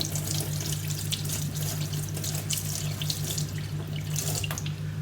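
A tap runs steadily into a sink as a paint brush for model building is rinsed under it, a continuous close splashing rush of water with slight shifts as the brush moves.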